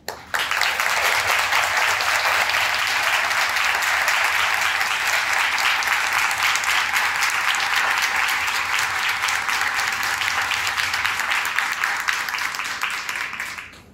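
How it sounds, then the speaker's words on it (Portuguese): A seated audience at the opening ceremony of a university Letters Week and thesis seminar applauds the organisers of a digitised catalogue, with dense, steady clapping that holds at full strength for the whole stretch before trailing off at the end. "levantem e recebam uma salva de palmas pelo trabalho, né, de organização, digitalização deste catálogo"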